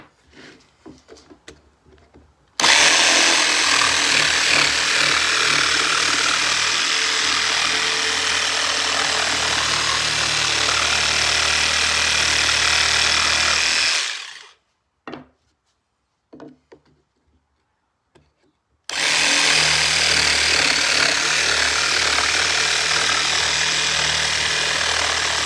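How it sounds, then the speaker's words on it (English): A jigsaw buzzes loudly through wood in a long continuous cut, rounding the edge of a cornhole leg, stops briefly with a few knocks and handling sounds, then starts cutting again. "we'll take our jigsaw and we will cut out the round edge"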